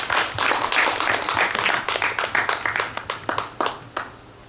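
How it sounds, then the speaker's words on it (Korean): An audience at a poetry concert applauds together: steady, dense clapping that thins into a few scattered claps and fades out at the end. "우리 함께 박수 한번 쳐볼까요?"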